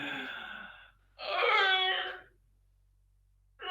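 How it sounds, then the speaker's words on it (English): A person gives two long, breathy yawns, each a drawn-out voiced exhale separated by a quiet pause, close and fairly soft, with a third starting at the end. "Oh, that felt good to yawn a few times."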